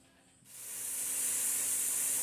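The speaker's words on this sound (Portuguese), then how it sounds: "E vou jogar ele pra tá dando aquela fritadinha" Shrimp hit a hot pan and burst into a sudden loud sizzle, which settles into a steady, bright frying hiss. No one speaks.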